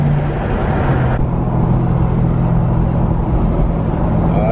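A 2003 Mustang Cobra pulls hard under acceleration, its engine a loud, continuous roar with a steady low drone and broadband road noise throughout, sounding close and constant from inside the car.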